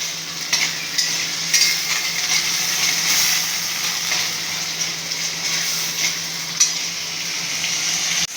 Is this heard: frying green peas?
yes